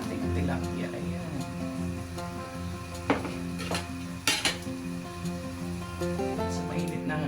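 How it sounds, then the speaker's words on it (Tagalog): A metal frying pan, or kawali, is handled on the stove as it heats for frying tilapia, with several sharp clanks and scrapes of metal over a low background hum while a person talks. "init muna natin yung kawali at magpiprito tayo ng ito guys, tilapia"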